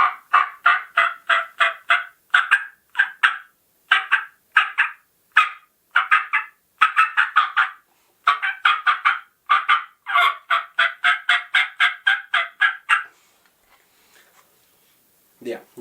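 Rapid series of sharp turkey clucks from a hand turkey call, bursts repeating steadily for about thirteen seconds, then a pause and one last short note.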